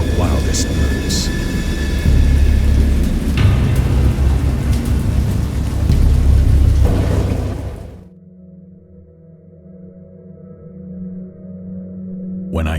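Heavy rain and rumbling thunder in a stormy sound effect, a dense roaring downpour with deep low rumbles that cuts off abruptly partway through, leaving a quieter low drone.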